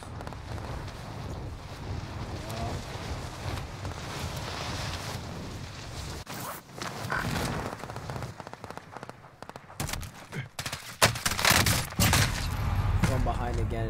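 Bursts of gunfire in the Call of Duty Warzone video game, dense and continuous under a rumbling, windy game mix, with sharp volleys growing louder toward the end.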